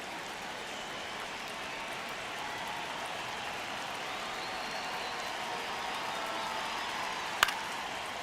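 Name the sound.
baseball stadium crowd cheering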